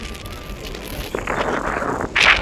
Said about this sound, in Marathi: पण इतकी हवा आहे ना जोराची